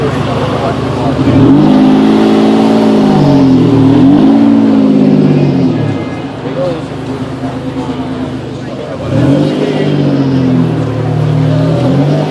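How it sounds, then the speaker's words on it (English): Cars pull in at the Yorkville Exotic Auto Show, loud and close, their engines revving in rising and falling surges with a quieter lull between them. People talk nearby. "Wait, there's more cars coming"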